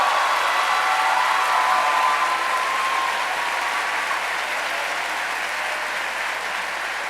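A large crowd at a Mexican presidential candidates' forum claps loudly and continuously, the applause holding steady for several seconds before easing slightly.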